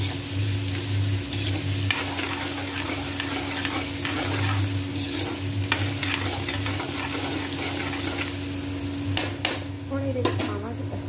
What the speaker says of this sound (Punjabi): ਆਲੂ ਪਾ ਕੇ ਥੋੜ੍ਹੀ ਕੁ ਦੇਰ ਇਹਨੂੰ ਅਸੀਂ ਆਲੂਆਂ ਨੂੰ ਫਰਾਈ ਵੀ ਕਰਾਂਗੇ